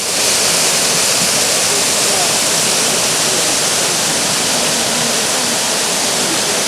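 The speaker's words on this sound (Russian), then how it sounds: "Нижние каскады образуют водопад." Cascading water of the Dzhurdzhur waterfall in Crimea, fed by the Vostochny Uluzen river, gives a loud, steady broadband roar that fills the whole stretch without a break and sounds close.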